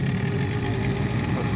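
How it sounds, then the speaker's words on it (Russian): A boat's outboard motor drones steadily nearby on cold water off Sevastopol, Crimea, a continuous engine rumble with a slight rhythmic pulse as the throttle is opened, no voices over it. "Сейчас газа добавлю."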